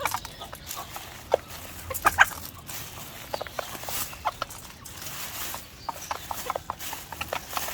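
Hens cluck and chicks peep in a busy barnyard, with scattered small chirps and scratching sounds continuing throughout.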